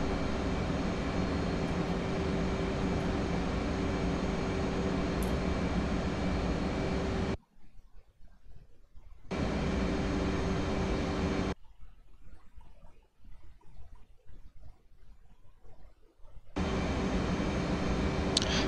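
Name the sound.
F/A-18 Hornet jet engine in DCS video game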